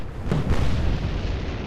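Naval gunfire in the warship game Atlantic Fleet: a couple of deep booming shots land close together, then roll into a sustained low rumble that fills the rest of the moment.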